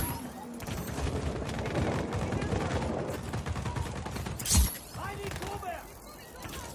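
Gunfire in Just Cause 4 rattles in dense bursts, nearly continuous through the first half, with a louder single blast later and sparser shots trailing off.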